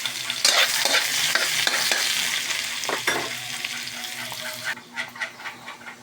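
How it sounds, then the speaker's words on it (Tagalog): Bay leaf, chili, onion and garlic sautéing in a pan, a steady bright sizzle with repeated scraping stirs that fades near the end into a few softer splashy stirs. "Igisa na tayo ng laurel, sili, sibuyas, bawang"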